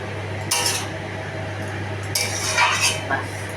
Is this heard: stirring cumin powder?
yes